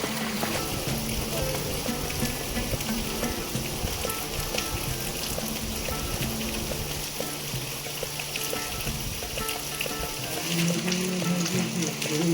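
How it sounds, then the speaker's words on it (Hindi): Steady monsoon rain pours off a roof and splashes continuously in the mountains, a dense wash of falling water with a faint low hum underneath. "जो छत से पानी गिरता है बरसात का"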